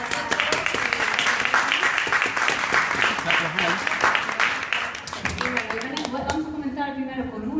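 Audience applause at a 2014 children's piano recital, dense clapping that holds steady for about five seconds, then thins out and fades as a voice begins speaking near the end.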